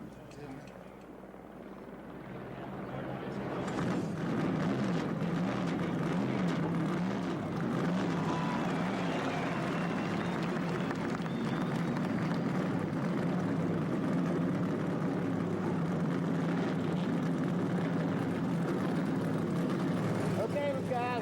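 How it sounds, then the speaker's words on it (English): NASCAR stock car engines start and rumble at the 1992 Daytona 500, swelling from a low drone into a dense, steady roar of many cars idling together, heard from a distance with crowd and broadcast ambience beneath. "start his engine."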